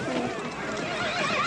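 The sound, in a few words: horse neighing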